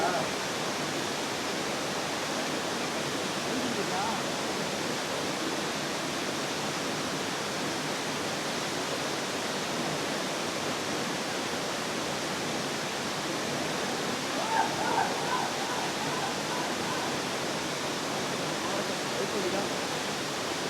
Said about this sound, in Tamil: ஒரு அருமையான வாட்டர் ஃபால்ஸ்.